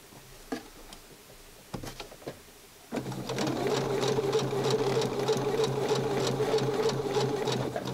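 Sewing machine stitching a small Barbie holiday outfit: a few scattered clicks at first, then a steady, rapid mechanical whirring and ticking that starts abruptly and runs on, close and fairly quiet.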